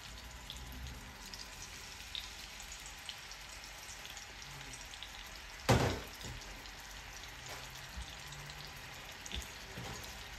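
Fish sliding into hot oil in a pan gives a steady crackling sizzle throughout, with one sharp louder spatter burst midway that quickly settles back into the even fry.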